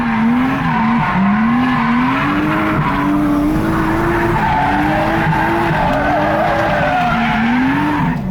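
A drift car skids hard after a clutch kick, its tires squealing in a loud, continuous wavering whine over the roaring engine, close up and sustained throughout.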